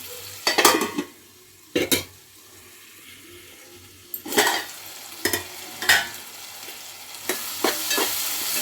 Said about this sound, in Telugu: టమాటా అయితే మంచిగా నూనెలో ఉడికిందండి ఇప్పుడైతే వంకాయ వేసేస్తా